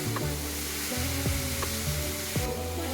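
Grated carrot halwa sautéed in a pan, a steady hissing sizzle with a low hum beneath and a few soft stirring scrapes.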